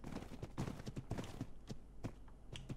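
Horse hooves clip-clop at a steady trot in ARK: Survival Evolved, fairly close and loud over a busy background, with no talking.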